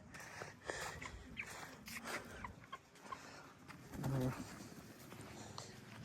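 Chickens on a small hillside farm give soft, scattered clucks, with one fuller call partway through. The sound is faint and outdoors, and voices talk now and then.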